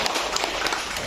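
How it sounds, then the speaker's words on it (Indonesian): Audience clapping at a university community-service closing ceremony in Indonesia, a brief dense burst of many hands at steady moderate loudness, fairly close. "Tepuk tangan dulu."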